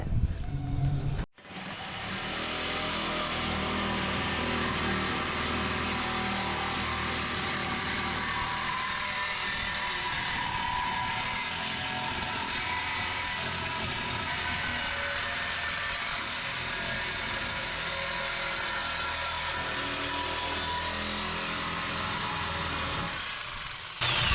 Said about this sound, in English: Sawzall it.